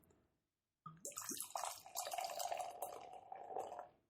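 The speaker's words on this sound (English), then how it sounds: "I'm going to pour them first" Homebrewed Pilsner poured from a bottle into a glass after a brief silence, a steady gurgling stream that fills and rises in pitch for a few seconds before tapering off, close and moderately quiet.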